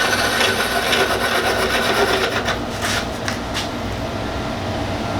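A wooden pen blank is sanded as it spins on a lathe, making a loud, continuous raspy hiss with a low motor drone. The friction noise eases slightly partway through.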